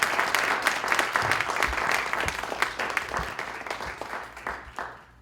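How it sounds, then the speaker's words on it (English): A panel-discussion audience applauds the panelists with steady, dense clapping that fills the room, holding strong before tapering off toward the end. "Can we get a round of applause for our panelists,"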